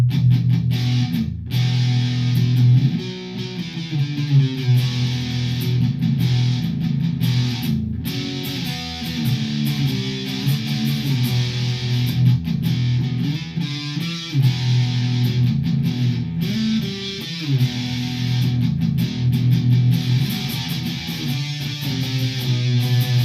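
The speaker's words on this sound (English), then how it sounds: "So this is the Lichtlaerm Audio Total Distortion Worship collaboration they did with Cult Effects." Electric guitar, a Gibson Les Paul Studio Plus with Greenybucker pickups, played through a Lichtlaerm Audio Total Distortion Worship pedal, gives a loud, thick, saturated distorted tone with sustained chords and riffs throughout, no talking.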